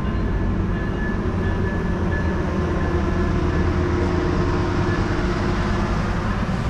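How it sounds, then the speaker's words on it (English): A Metrolink commuter train bound for Ventura rolls past near Moorpark, a steady, loud broadband rumble of wheels and engine with a faint high tone, continuous throughout with no speech. "Metrolink 163, now headed to Ventura."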